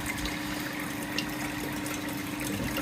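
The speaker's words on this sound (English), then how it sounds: "so that's been running for another couple of minutes" Water runs through a domestic central heating system during a flush on an existing system being upgraded, a faint steady trickling flow with a low pump-like hum, no talking.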